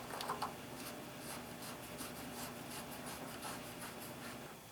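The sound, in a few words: plumbing tape being wrapped onto a water heater drain's threads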